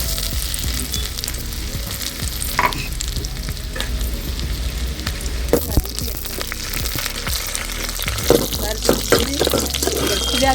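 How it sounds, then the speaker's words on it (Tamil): Cashews, raisins and crushed almonds fry in a pan for rava kesari, producing a loud, steady sizzle with scattered pops and clatters of stirring, and a voice speaking briefly over it. "அடுத்து வந்து முந்திரி திராட்சை போட்டு வறுத்து எடுத்துக்கலாம்"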